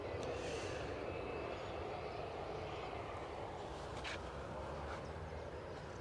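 An EasyJet airliner departing Edinburgh for London Gatwick makes a faint, steady jet engine roar from a distance, continuous throughout.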